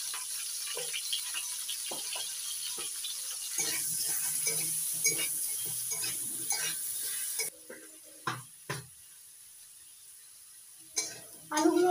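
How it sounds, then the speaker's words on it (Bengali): Potato pieces fry in mustard oil until reddish, giving a steady sizzle broken by stirring scrapes and clinks of a utensil against the pan. The sizzle then drops away, leaving only sporadic clanks. "আলুগুলো লাল করে ভেজে নিয়েছি।"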